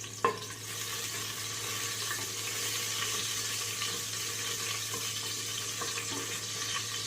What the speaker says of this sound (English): So let me fry these green chilies.